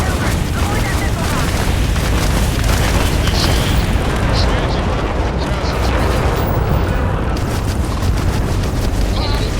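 A dense, loud rumbling space battle in Starfield, with booming missile blasts and explosions layered over continuous low roar and scattered bursts throughout.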